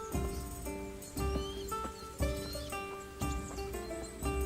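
Horse in the medieval open-world RPG Kingdom Come: Deliverance, with several repeating bursts of hoofbeats and snorting over a steady musical game background, fairly quiet and without talk.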